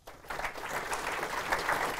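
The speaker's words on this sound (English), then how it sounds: "give them a round of applause to welcome them" A crowd at a panel event breaks into applause that starts abruptly and holds steady, a dense wash of many hands clapping.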